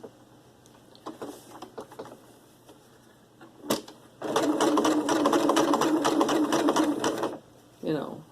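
A sewing machine stitches through a coiled rope bowl, a few short bursts of needle chatter and then a loud, steady run of rapid close stitching, with someone talking in the background.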